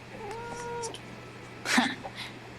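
A cat in the video game Life Is Strange True Colors gives a short, clear meow near the start, followed by a soft rustling burst and faint sounds in a quiet scene with a low steady hum.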